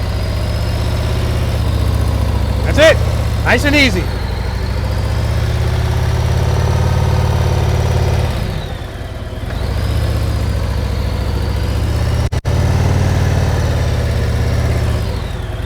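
A motorcycle engine holds a loud, steady low rumble as the rider eases the clutch out and pulls slowly away, with a short voice heard early on.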